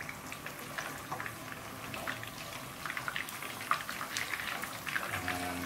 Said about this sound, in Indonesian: bunyinya seperti ini karena pertemuan antara air dengan minyak